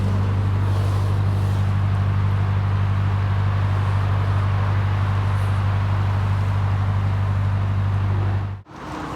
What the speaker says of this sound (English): that traffic drone you can hear in the background, that's the A6